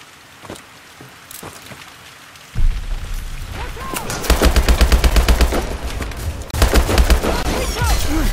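Heavy automatic gunfire in Call of Duty Advanced Warfare breaks out after a few quiet seconds of scattered clicks and becomes loud, rapid, sustained bursts with whizzing effects as the firefight continues.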